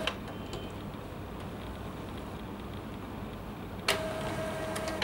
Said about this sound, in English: Now, the real printing comes.